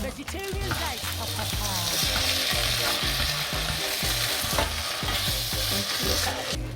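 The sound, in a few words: vegan bolognese sizzling while being mixed in a saucepan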